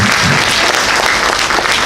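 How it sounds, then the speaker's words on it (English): A convention panel audience at Scares That Care 2018 breaks into loud, close applause, a thick steady burst of many hands clapping with nothing else heard. "Let's give her an applause."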